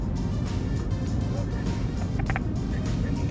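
A car drives across the Confederation Bridge with a steady, close cabin rumble of engine and road noise. Voices talk over it, and a few faint chimes are heard briefly near the end.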